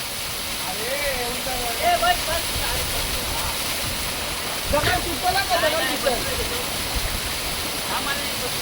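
A forest waterfall near Ghatkopar roars as a constant broadband rush of falling water, with voices talking briefly over it.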